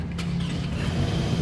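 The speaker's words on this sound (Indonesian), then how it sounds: "Nah, sekarang kita coba nyalakan mobil ya." The 2.4-litre engine of a 2008 Toyota Camry 2.4 V automatic runs with a low, steady hum close by and no talk.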